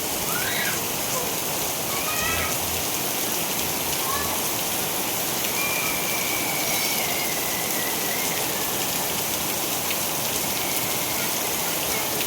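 Heavy rain pours down in a dense, constant roar, steady and loud throughout, with faint background tones barely showing through.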